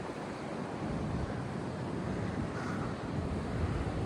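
Surf breaks steadily along the end of a beach on a coastal walk in south-west Victoria, a continuous broad wash of waves mixed with wind noise and no talk.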